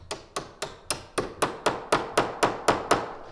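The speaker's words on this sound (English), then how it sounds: "we're just gonna tap that pin in nice and hard" A hammer strikes a metal door hinge pin in a steady series of about eleven sharp, evenly spaced taps, close and loud, with no talking.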